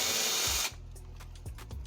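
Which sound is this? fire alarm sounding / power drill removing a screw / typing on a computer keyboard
power drill removing a screw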